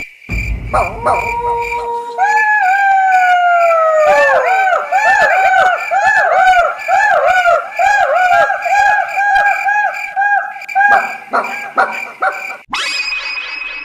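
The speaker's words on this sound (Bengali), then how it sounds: "সেখানে বাস করে কিছু শিয়াল রাত গভীর হলেই তারা ডাকাডাকি শুরু করে দিত" A chorus of jackals howls, many overlapping wavering, falling cries rising and fading together, loud and sustained, broken off by a sharp different noise at the end.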